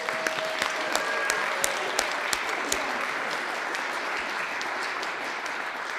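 A church congregation gives steady applause to the chancel choir during Sunday worship, a dense even wash of clapping with a few sharper close claps standing out.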